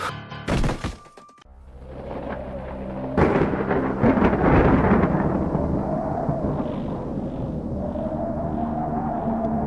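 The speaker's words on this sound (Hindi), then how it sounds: "लगता है बाहर जबरदस्त तूफान आया है।" Thunder cracks and rolls during a fierce storm outside a bungalow at night, with an initial sharp crash followed by a loud, sustained rumble and steady rain-like wash that continues to the end.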